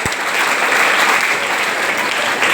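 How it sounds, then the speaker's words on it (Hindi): Loud, close applause from a school audience cheering a quiz team at a Premchand Jayanti quiz final, a thick continuous patter of many hands that holds steady for the whole moment. "अनुशासन हाउस के लिए जोरदार तालियां"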